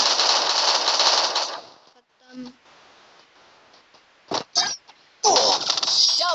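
Gunfire in the Free Fire mobile battle royale game comes as a dense rapid burst at the start, then scattered short shots and a final stretch of loud firing, with a voice briefly speaking between them.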